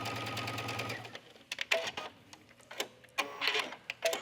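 Domestic sewing machine stitching around a sleeve cuff on a tunic, sewn from the wrong side of the fabric: a steady run of rapid mechanical stitching for about a second, then short bursts of clicking and handling as the fabric is moved.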